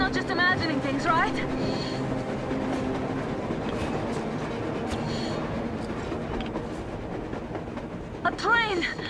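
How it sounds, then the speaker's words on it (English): A train rolls past in the Metro Exodus video game on a snowy surface, a steady rumbling, clattering rumble under excited voices that cut in and out. "A train! A damn train on the surface!"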